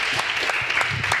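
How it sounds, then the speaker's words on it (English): An audience at a spiritual retreat talk gives a brief round of applause, a short burst of moderately loud clapping. "Please, a round of applause."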